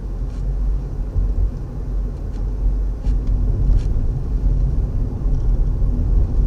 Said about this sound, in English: we're going on the autoroute to make a test drive at 100 kilometers an hour